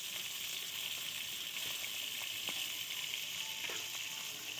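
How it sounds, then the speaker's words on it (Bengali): Pangas fish pieces fry in hot oil, a steady dense crackling sizzle close up and continuous throughout, with a few faint clinks of utensils. "এক পিঠ করে উল্টে দিয়ে মাছটা ভেজে নিচ্ছি।"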